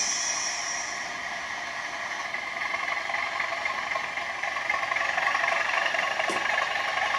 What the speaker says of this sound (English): increase the engine speed and it won't go anywhere.